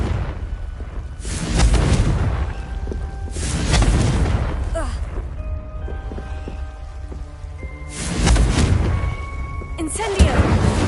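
Repeated loud fiery blasts from the Confringo spell in Hogwarts Legacy, several booming explosions spaced a few seconds apart with crackling fire and debris between them, a voice briefly shouting amid the noise.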